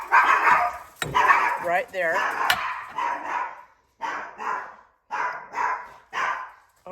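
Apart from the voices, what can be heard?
dogs barking indoors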